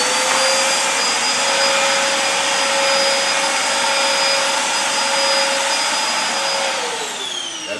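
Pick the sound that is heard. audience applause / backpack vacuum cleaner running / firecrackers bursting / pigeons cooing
backpack vacuum cleaner running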